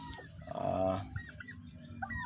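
Turkeys call close by, a loud gobbling burst followed by softer chirping and clucking calls from a few birds.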